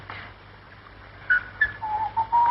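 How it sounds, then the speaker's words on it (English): A man whistles a short, wavering tune in a few brief phrases, near and fairly quiet, over a low steady hum with no talk. "Oh, do stop whistling."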